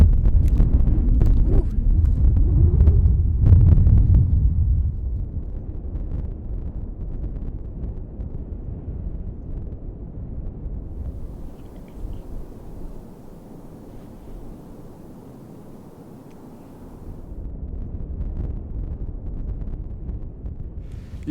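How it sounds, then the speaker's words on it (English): Strong wind buffets the microphone at a coastal overlook in northwest Oregon, loud booming gusts at first, then easing into a steadier rush that drops low before rising again. "A little windy out on the edge here"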